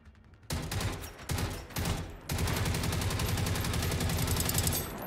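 Rapid automatic gunfire from a weapon in the video game Generation Zero, a few short bursts at first and then one long sustained stream of shots, loud and close with no talk.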